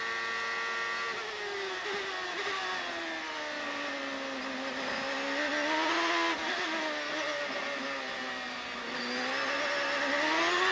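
An IndyCar race car engine running rough on the Mid-Ohio circuit, a sustained loud whine with rising and falling pitch as the car accelerates and passes, with no voices over it.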